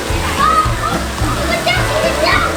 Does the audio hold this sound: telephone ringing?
no